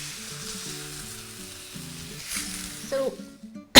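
Carne asada meat sizzles steadily in a pan under faint background music, a continuous frying hiss that swells briefly near the end before a sharp clatter cuts it off.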